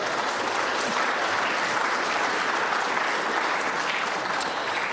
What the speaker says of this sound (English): Can we get applause for that, please?